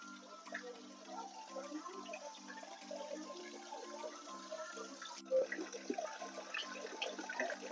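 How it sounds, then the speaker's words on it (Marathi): Water pours from a stone cow-mouth spout in Dapoli, India, in a steady, continuous stream, a soft splashing flow that stays even throughout at moderate distance. "गोमुखामधून पाणी हे बारा महिने वाहत असते"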